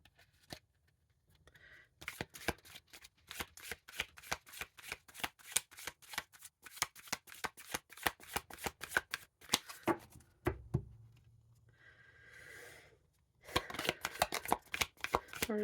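Tarot cards being riffled and shuffled in a long run of rapid crisp flicks, with a short pause and a soft handling rustle near the end before brisk shuffling resumes, close and clear with no talk.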